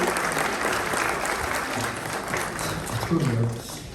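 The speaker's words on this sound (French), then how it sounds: "vous pouvez applaudir Fabienne." Audience applause at a mayor's New Year wishes ceremony in Pomponne, a sustained round of clapping from a seated crowd, with a voice talking under it near the end.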